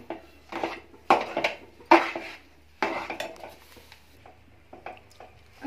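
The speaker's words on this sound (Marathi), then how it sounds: "आणि सर्व ढवळून घ्यायचं आहे" A spoon scrapes and clanks against a pan while a sesame and jaggery mixture for til ladoo is stirred over a low flame. The strokes are loud, close and irregular, and no one speaks.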